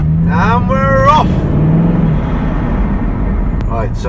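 A car moves off and drives through London traffic near Edgware Road, a low steady engine rumble and road noise close inside the cabin, with people talking over it.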